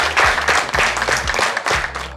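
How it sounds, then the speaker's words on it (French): An audience applauds for a performer named Diane, a loud dense burst of clapping that rises and falls in waves over a low background hum. "On peut applaudir Diane. Bravo, Diane."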